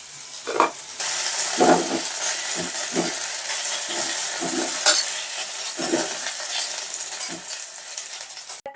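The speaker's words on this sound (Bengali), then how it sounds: "অল্প অল্প বেশি কচুটা ভাজবো না অল্পই ভাজবো" Taro pieces (kochu) fry in a pan with a loud steady sizzle, while a utensil stirs and scrapes at intervals throughout.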